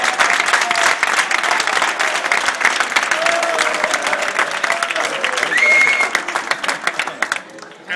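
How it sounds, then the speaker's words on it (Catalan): A crowd applauding at an election night rally speech for Oriol Junqueras, dense sustained clapping that fills the room loudly and then thins out toward the end, with faint voices mixed in. "Un aplaudiment."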